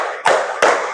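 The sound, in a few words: rhythmic hand clapping pattern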